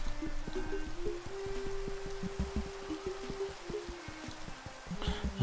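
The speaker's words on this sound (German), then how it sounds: "Es regnet." Soft continuous patter of rain in Minecraft with a low hum and repeated light ticking beneath, steady throughout.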